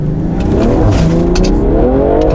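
A JB4-tuned BMW M340i accelerates hard with its wheels spinning. The loud, close engine note climbs steadily throughout, with no talking.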